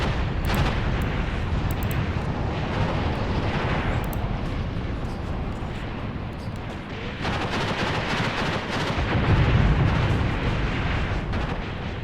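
Katyusha rocket barrage in an Angolan Civil War video game: a dense, continuous roar of rumbling launches and explosions layered over crackling gunfire, loud and unbroken, with a heavier swell near the end.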